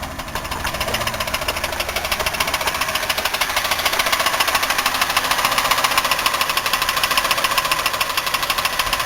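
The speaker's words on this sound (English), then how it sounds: "it's still misfiring on at least one cylinder" With valve covers removed, a misfiring Buick 3800 engine keeps up a harsh, continuous knocking clatter close by, a fast even tick-tick rhythm over a rough running drone, loud and unbroken throughout.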